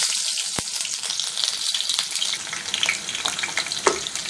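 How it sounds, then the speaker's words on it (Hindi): Chopped onion sizzles and crackles steadily in hot oil in an Indian kadhai, a dense continuous fry with occasional sharper pops and stirring clicks, close and alone with no talking. "अब इसमें प्याज डाल"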